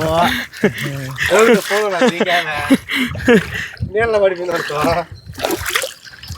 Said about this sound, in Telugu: తేగలను అయితే ఇప్పుడు నీట్గా కడుక్కుందాం